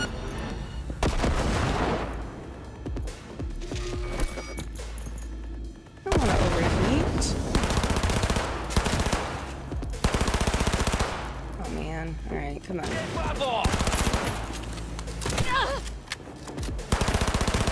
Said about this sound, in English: Let's go shoot these bots.